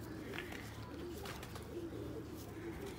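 Soft, low cooing of Sialkoti pigeons, a steady murmuring backdrop that sounds fairly close but quiet, with faint ambient noise.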